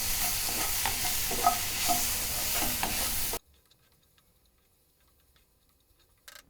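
Turmeric, coriander powder and salt fry in a pan for restaurant-style egg curry: a close sizzle with quick stirring taps for a few seconds, then a cut to near silence.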